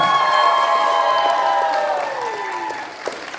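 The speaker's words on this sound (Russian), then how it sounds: "Эти аплодисменты тебе" An audience at the closing ceremony of an animation film festival applauds and cheers, with sustained whoops and shouts over clapping that gradually fade toward the end.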